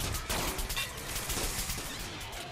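Rapid gunfire in Plants vs Zombies Garden Warfare 2 crackles in dense, repeated bursts, a near-continuous volley of shots with small pulses of intensity across the whole stretch.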